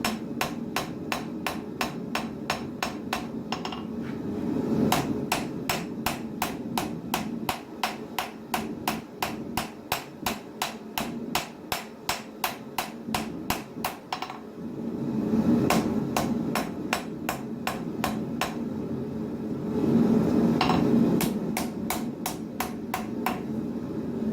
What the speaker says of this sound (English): Now I've switched to a different rounding hammer